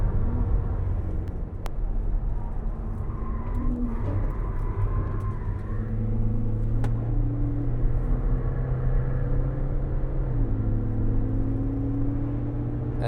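A Honda S2000 runs on the Nürburgring circuit, a steady engine drone and tyre rumble that holds level and close for the whole stretch, with the pitch shifting a few times as it changes gear.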